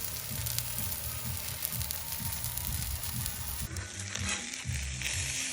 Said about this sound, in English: And we'll just let that sizzle away there.